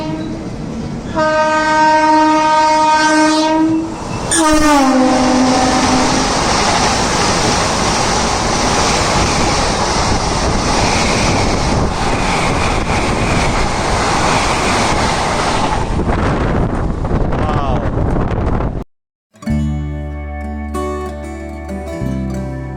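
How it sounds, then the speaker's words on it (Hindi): Saffron Vande Bharat express on the Mumbai–Ahmedabad route rushes past with a long horn blast near the start, then a loud, sustained roar of wheels and rushing air that fades away, followed by an abrupt cut to different audio. "ये देखो अभी आ रही है, ये है मुंबई अहमदाबाद सैफ्रॉन वंदे भारत।"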